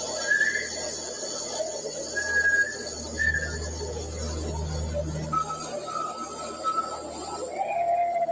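A person whistles faintly in a quiet night setting, several short high tones spread out over time, distant against a low background hum.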